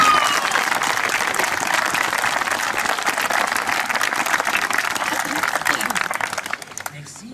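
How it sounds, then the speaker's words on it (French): An audience at a monument inauguration in Belgium gives dense, sustained applause that holds steady for several seconds, then thins and fades toward the end. "Pouvons-nous chaleureusement les applaudir bien fort?"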